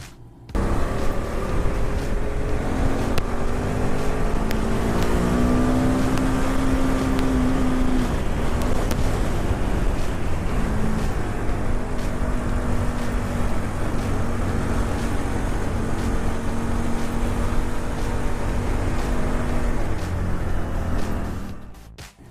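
A 2010 KTM 990 SMT with a 990cc V-twin engine, heard while riding, gives a steady loud droning roar with rising and falling revs and gear changes, mixed with heavy wind rush throughout.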